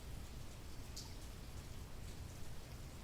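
Steady rain falls in a soft, even hiss, faint and constant throughout with no voices.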